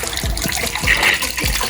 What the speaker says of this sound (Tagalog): kulay kalawang, putik itong tubig namin dito.